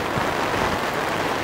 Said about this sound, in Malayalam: ശക്തമായിട്ടുള്ള മഴ.